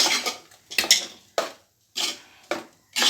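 A spoon stirs ground coconut paste into fish curry in a pot, making a series of separate metallic scrapes and clinks with short silent gaps, close by.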